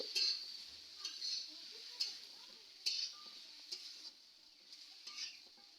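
Spices and cut vegetables being stirred in a frying pan, a quiet continuous sizzle broken by regular spoon clicks and scrapes about once a second.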